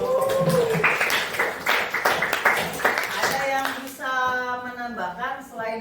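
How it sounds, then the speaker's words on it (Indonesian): Students in a coding and AI lesson clap for a classmate with scattered, uneven claps mixed into lively chatter and laughter, while voices take over toward the end. "Tepuk tangan untuk"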